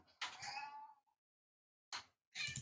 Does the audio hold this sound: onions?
no